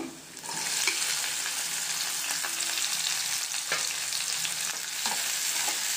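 Chopped onions sizzle in a pan with ginger garlic, loud and continuous, with the occasional scrape of a stirring spoon.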